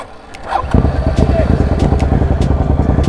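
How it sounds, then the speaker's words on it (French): Motorcycle engine catching and then revving with sharp throttle blips, loud and close, a steady rumbling idle-to-rev pattern after a brief quieter start, with voices talking over it. "Démarre et accélère si tu veux."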